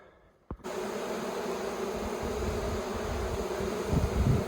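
Honey bees buzzing steadily at an open wild honey hive, a dense continuous drone that starts abruptly after a brief quiet moment and stays loud and close throughout, swelling slightly near the end.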